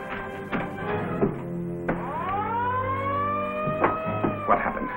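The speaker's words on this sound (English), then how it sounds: "Yoga, that's the alarm." An alarm sounds on board a ship in a 1945 serial, a rising wailing siren that swells and holds, loud and continuous, with clanking and thumps around it.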